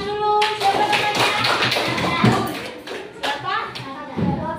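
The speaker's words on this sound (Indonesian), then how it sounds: "Tepuk tangan dulu." Children clap their hands in a classroom during a lesson, a quick run of sharp, close claps with children's voices chattering over and around them.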